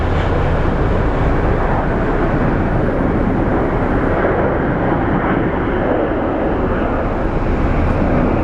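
An Embraer 135 or 145 regional jet at Sky Harbor International Airport in Phoenix, its engines giving a steady, loud broadband roar that holds without letup throughout, with no talk.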